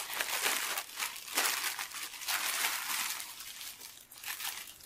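Plastic packaging of a parcel of clothes crinkles and rustles in bursts as it is torn open one-handed, close and fairly soft, with no talking.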